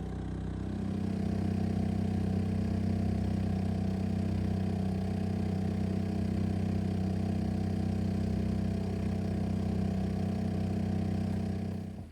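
A Honda 2.3 hp air-cooled outboard motor runs steadily at a constant idle on a Catalina 22 sailboat, a droning, slightly clattering engine hum close by with no speech.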